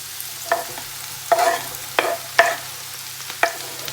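Mushrooms frying in olive oil in a pan on a moderately hot plate: a quiet hiss broken by scattered clacks and scrapes of a utensil moving them around.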